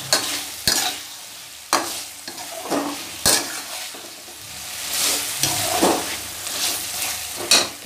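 Sizzling and frying of jackfruit masala with repeated scraping and stirring strokes in a wok, irregular clanks of a utensil against metal, close and fairly loud.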